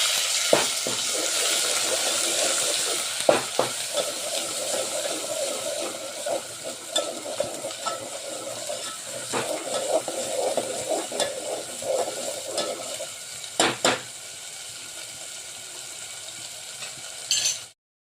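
Ground masala of roasted onion, tomato, coconut, coriander and sambar spices frying and being stirred in a pan for jackfruit curry, a steady close sizzle with scattered scraping clicks, quieter toward the end.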